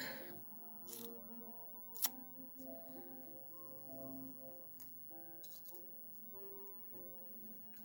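Faint snips of scissors cutting a nail polish strip, with small clinks and rattles in a quiet room, intermittent and close.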